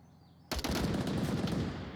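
A sudden burst of rapid automatic gunfire in the VR shooter Onward during a competitive match, erupting after a quiet moment and sustaining loud, dense shots with echo for over a second.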